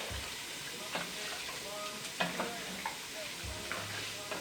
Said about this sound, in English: we're just going to stir the mussels into that sauce.